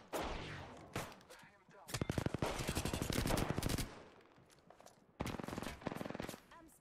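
Apex Legends gunfire comes as loud bursts of rapid automatic shots, in sustained strings broken by short pauses, with players talking now and then.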